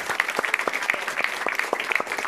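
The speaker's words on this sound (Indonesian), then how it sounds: "Tepuk tangan sekali lagi buat Bang Norman." A comedy roast battle audience applauds Norman Kamaru with sparse, crisp claps from a small group. The claps fall in a fairly steady, close rhythm, with no voices.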